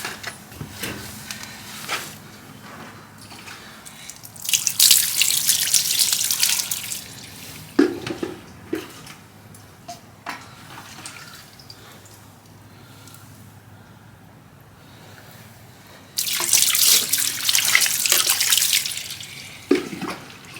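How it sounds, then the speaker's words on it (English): Water rinses Diablo wheel cleaner off a car wheel in two strong, close hissing sprays of several seconds each, with quieter dripping and splashing between them. "Alright, now let's rinse it back off."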